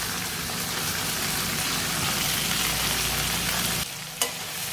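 Crushed shallots, ginger and garlic fry in gingelly oil for a chicken dish, giving a steady, loud sizzle that cuts off near the end, followed by a single brief clink.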